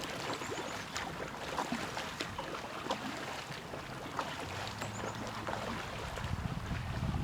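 Raft paddle working short strokes with a quick pry on river water, soft splashing and sloshing strokes over steady wind buffeting on the microphone, fairly quiet and without talk.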